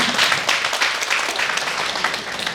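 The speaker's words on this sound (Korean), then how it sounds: "박수를 드립니다" An audience claps at a Catholic lecture event, steady, fairly loud applause from many people, thanking a former constitutional judge at the end of his talk. The clapping is sustained throughout without speech.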